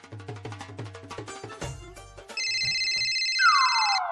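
A phone rings with a melodic electronic ringtone, a string of plucky repeated notes followed by a sustained bright trilling tone and a rising sweep, close and clear with no talking.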